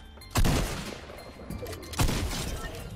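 Gunfire in the video game Fortnite Battle Royale, two loud sharp shots about one and a half seconds apart, each with a ringing tail over a low game background.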